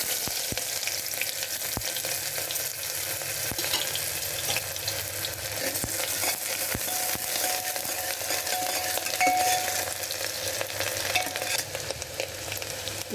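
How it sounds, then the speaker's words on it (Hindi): Onion hits hot oil in a pan and fries loudly, a dense continuous sizzle and crackle with scattered sharp pops close by, sustained throughout and with no voices. "तो देखिए तेल हमारा गर्म हो चुका है। अब हम इसमें प्याज डालेंगे।"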